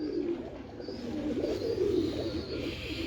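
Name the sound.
pigeons cooing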